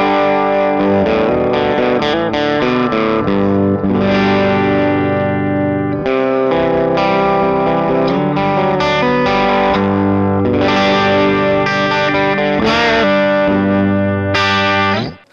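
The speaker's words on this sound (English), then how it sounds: "it's going to bring in a little bit of breakup." Electric guitar played through a BluGuitar AMP1 100-watt amp on the clean channel at full volume with master low, giving a slightly broken-up tone; continuous strummed chords and ringing notes, loud and close, with no talking.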